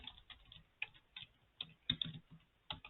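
Keys tapped on a computer keyboard while entering a new sales lead's details, an irregular run of light clicks in short bursts, close and fairly quiet with no talking.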